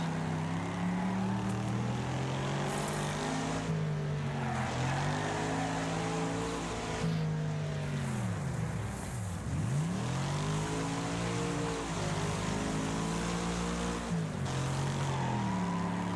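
Race car engine in the game Wreckfest, a continuous loud droning roar whose pitch rises and falls with gear shifts and speed changes, with harsh scraping and crashing noise over it, no voices.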